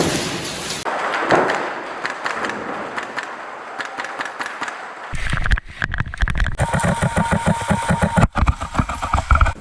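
Airsoft guns firing during a Taiwanese speedsoft match, crisp rapid shots in dense bursts over loud, continuous mechanical noise, growing busier and sharper in the second half.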